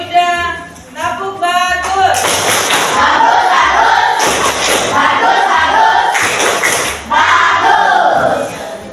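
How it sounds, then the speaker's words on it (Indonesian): Indoor group of teachers or students clapping together in a rhythmic "tepuk bagus" applause for a person named Yuda at a school session in West Sumatra, with dense, loud thumping claps and chanting voices throughout. "kita kasih tepuk bagus buat Yuda"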